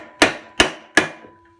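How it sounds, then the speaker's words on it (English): Three sharp, evenly spaced hammer blows strike a metal log splitter part fitted through a piece of wood on a 30-ton Forest King log splitter, each a loud ringing crack fading quickly. "we just gave it a few more blasts with the hammer and this piece of wood"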